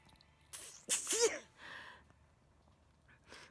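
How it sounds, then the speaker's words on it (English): A single sharp sneeze bursts out close by with a quick intake before it, followed by a soft breathy exhale and quiet sniffle. "I've been sneezing now for about, I don't know, about a minute maybe"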